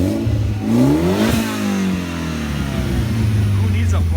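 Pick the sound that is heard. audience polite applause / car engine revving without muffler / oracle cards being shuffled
car engine revving without muffler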